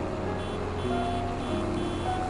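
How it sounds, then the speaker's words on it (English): Faint, repeated electronic reversing beeps from a vehicle in Farming Simulator 22 sound under a loud, droning vehicle engine rumble. "they're barely audible, but the beeps are back in action"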